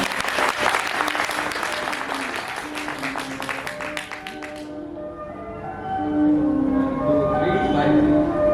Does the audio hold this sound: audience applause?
yes